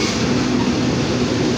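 Oil Creek and Titusville Railroad passenger train pulled by an Alco 75 locomotive, heard from an open car: a continuous, loud, even rolling rumble of the moving train with no voices.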